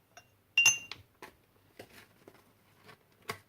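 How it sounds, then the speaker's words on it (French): A tablespoon clinking against a glass jar while scooping powdered ginger: several sharp, close metallic taps and scrapes spaced irregularly over quiet silence, with no talking. "je prends une cuillère à soupe bien remplie de gingembre en poudre"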